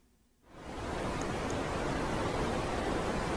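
A sonification of Pluto's moon Styx gives a steady, soft white-noise hiss that swells in after a short quiet start and then holds even and continuous.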